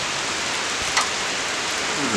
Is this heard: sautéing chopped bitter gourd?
no